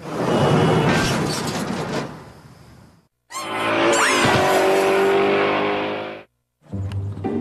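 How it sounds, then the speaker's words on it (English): A car slides sideways through S-turns on a driving course, tires squealing loudly in long sustained bursts with engine roar, broken by brief pauses. "Canada's worst drivers are learning how to slowly slide a car sideways by doing S-turns."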